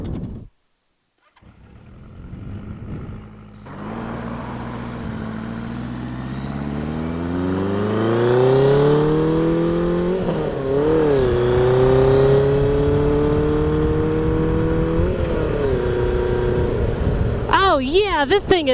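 A 1980 Kawasaki KZ1000 custom motorcycle started up and ridden on the road: after a brief pause, the engine fires and revs, then pulls through rising gears in a loud, raspy, steady roar.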